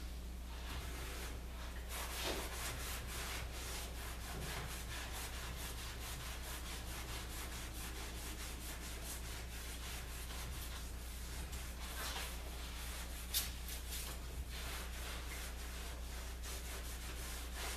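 A cloth rubs wax onto the inside of a wooden door in quick, repeated back-and-forth strokes, a soft scratchy swishing that stays close and steady, with no talking.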